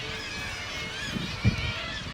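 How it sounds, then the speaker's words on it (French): Seagulls crying over the fishing village of Å in Lofoten, Norway, a thin wailing chorus of calls at moderate distance, layered and continuous for a couple of seconds. "Beaucoup de mouettes."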